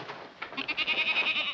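A goat bleats several times in quick succession, nasal wavering cries rising and pulsing close by, with no voices over them.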